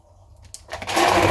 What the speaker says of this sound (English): Okay, and then I'm going to whisk it up.